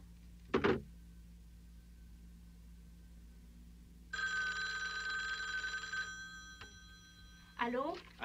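A telephone rings with an incoming emergency call: a long, loud electronic ring of about two seconds, then a shorter ring, with a brief voice before it and another voice after.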